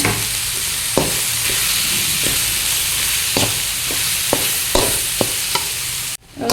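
Eggs and masala frying in a pan while stirred, loud continuous sizzling punctuated by a series of sharp spatula taps and scrapes, ending in a sudden drop to quiet.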